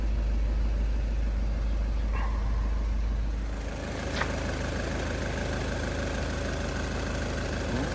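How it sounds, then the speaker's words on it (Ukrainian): A 2012 VW Touran 2.0 diesel engine idles steadily with a low, even rumble throughout, a faint click or tap breaking in partway through. "двигун більш-менш чисто працює"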